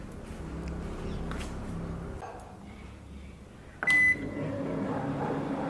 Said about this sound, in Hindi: अब हमने प्री हीट के लिए रख दिया है ओवन को